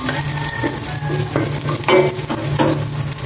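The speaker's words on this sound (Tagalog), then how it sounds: "Gisa ko na itong bawang" Garlic sautéing in a hot pan, a constant close crackling sizzle with a few sharper stirring scrapes and spatters, no voices.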